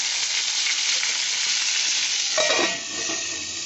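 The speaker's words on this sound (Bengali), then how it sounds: "ভেজে একটু নরম হলে নামিয়ে নেব ঢাকা দিয়ে ভেজে দিই" Brinjal fries in hot oil in a covered pan, giving a loud, continuous close-up sizzle with a brief stir or rattle partway through, no voices.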